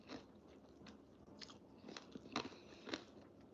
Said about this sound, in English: I'm chewing ice because my tongue is dry.